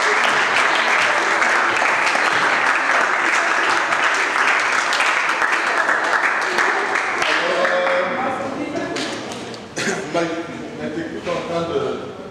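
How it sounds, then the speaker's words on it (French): A large crowd applauds loudly and continuously, the clapping thinning and fading toward the end with a few scattered claps. "Alors, on applaudit encore une fois de plus pour la vie."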